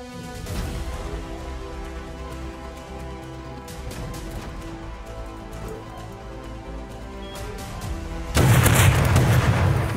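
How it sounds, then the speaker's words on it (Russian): Explosions from a base raid in the video game Rust, a long stretch of heavy rumbling booms and blasts with a much louder, harsher burst near the end. "Это взрывы были"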